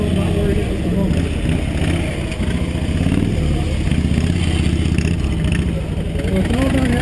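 Police motorcycle maneuvering on pavement at a safety demonstration, a steady close engine drone with throttle variations throughout, while someone talks over it.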